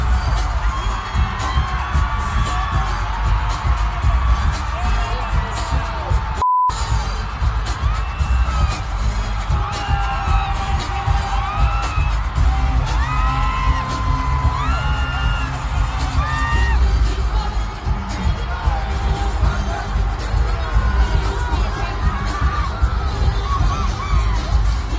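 At a concert in Las Vegas, a dense arena crowd screams and cheers continuously and loudly as the performers come out on stage, with high shrieks and whistles rising over the steady roar.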